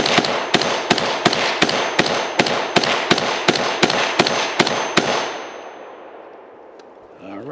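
An IWI Carmel rifle fires a rapid string of about fourteen evenly spaced, loud sharp shots at an outdoor range, each report ringing into the next, then the echo trails away into quiet.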